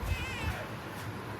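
A cat meowing briefly and faintly, a short wavering call over background hum and low voices.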